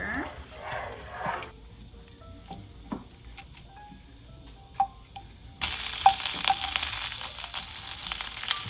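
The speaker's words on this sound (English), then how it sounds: "I'm just gonna give everything a stir" A soy sauce stir-fry sizzles in a pan while it is stirred, with spatula scrapes and clinks during a quieter stretch before the frying hiss swells loud again.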